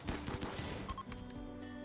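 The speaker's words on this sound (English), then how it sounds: "The headshot would have been Nails. Yeah, shot to the head" Gunfire from a RimWorld 1.6 colony battle: a quick run of sharp shots and impacts over about two seconds, fairly quiet, with game sound effects and no talk.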